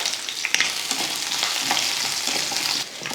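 Onion, garlic, ginger and green chillies sautéing in hot oil, a loud continuous close sizzle with brief stirring scrapes.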